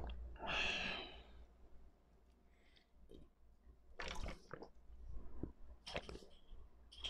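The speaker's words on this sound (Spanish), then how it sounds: "voy a tomar agua, amiga, para despedir el video, a ver cómo suena" A person drinking water very close to the microphone in a quiet room, with soft swallows, gulps and breaths, then a few sharp clicks and light rustles.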